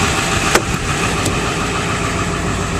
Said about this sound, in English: This has the Power Stroke V8.